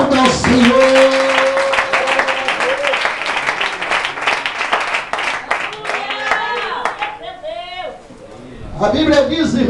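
A church congregation claps and applauds loudly and steadily during an evening service, with voices calling out over the applause before it thins out near the end.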